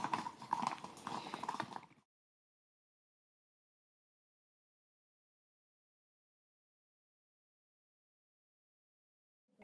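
Horses' hooves clip-clop for about two seconds at a carabineros post, loud and close at first, then cut off into silence.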